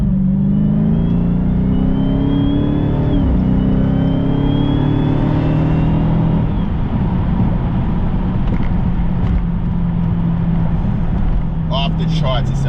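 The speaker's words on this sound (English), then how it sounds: "Hellcat accelerations are just like on another level" A 2020 Dodge Charger Daytona Hellcat Widebody accelerates hard on a highway, heard from inside as a loud, continuous engine roar with a supercharger whine climbing in pitch through the gears.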